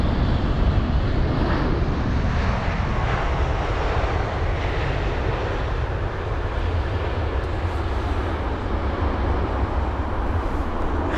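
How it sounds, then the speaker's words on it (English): A Boeing 777 freighter touching down at London Heathrow on a windy day, heard as a loud, steady roar of jet engines mixed with gusting wind noise across the whole stretch, with no talk. "you can see they're getting that aircraft down on the ground"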